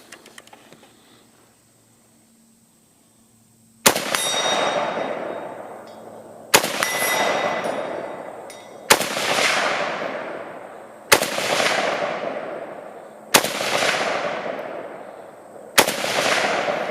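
An AK rifle with a folding stock fires 7.62x39 rounds at a distant target: six loud, sharp single shots spaced a few seconds apart, each with a long echoing decay, after a few seconds of quiet.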